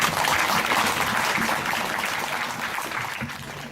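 Audience applause at a 2013 high school graduation ceremony, a dense, steady wash of many hands clapping that holds loud throughout and eases off only slightly toward the end.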